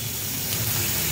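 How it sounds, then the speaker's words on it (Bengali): Stuffing frying in hot peanut oil in a home kitchen, giving a steady close sizzle with a brief sharper pop near the end. "বাদাম তেলটা দিয়ে যখন ভাজা হয় তখন একটা বাদামের স্মেল ওঠে"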